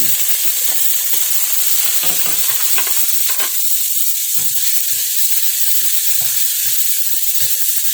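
Garlic sautéing in a pan for mussels with vegetables, a steady loud hiss broken by irregular stirring scrapes and clicks, with no voices.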